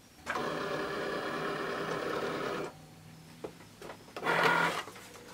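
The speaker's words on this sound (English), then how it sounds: "Now we load it into the Cricut" A Cricut cutting machine slices yellow iron-on vinyl with a steady mechanical whir for about two seconds, then falls quiet before a shorter, louder burst of motor movement near the end.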